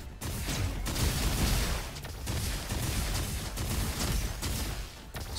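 Beluga cannon weapon firing in Roboquest during a frantic fight, a dense, chaotic barrage of loud blasts and crashing impacts with brief gaps, continuous and close.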